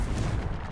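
A Confringo explosive spell goes off in Hogwarts Legacy, a short, dense blast with a heavy low-end boom that fills the whole moment.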